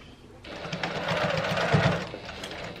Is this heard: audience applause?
no